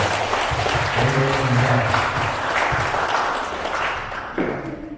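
A church congregation at an Indonesian thanksgiving Mass applauds a brother marking 25 years of service, steady dense clapping filling the room for several seconds before it begins to fade.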